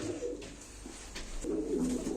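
Pigeons, flying play birds at a live bird auction, coo in soft low repeated calls close by, with a steady background hum.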